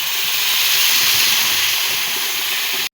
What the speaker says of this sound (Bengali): তখন এখানে আমি গরম ফুটন্ত পানি দিয়ে দিলাম।